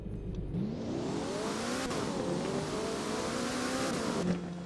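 A car in the Roblox video game drives fast, a steady loud synthetic engine roar that rises and falls in pitch with gear changes, with no talk over it.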